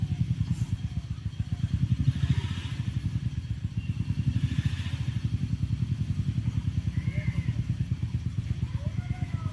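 A vehicle engine with an internal fault, likely excessive cylinder-to-piston clearance, runs steadily with a dense low rhythmic clatter throughout, close and fairly loud, with faint background noises and no talking.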